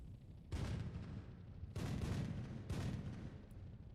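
Three heavy, rumbling blasts as a tank fires missiles like artillery shells in the video game Sprocket, each boom long and rolling, spaced about a second apart and heard alone.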